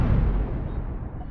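Missiles firing in the Cosmoteer space-ship video game, a loud booming launch and rumbling blast that slowly fades over about a second, heard alone without talk.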